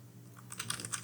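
Quick burst of close typing on a computer keyboard while CSS code is entered, a rapid run of light clicky keystrokes, no voices.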